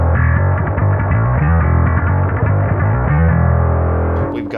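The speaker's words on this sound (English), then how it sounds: "We got the distortion tone." Bass guitar played through a distortion effect on a pedalboard, loud gritty riffing with repeated low notes and rhythmic chugging, alone and close, thinning out at the end.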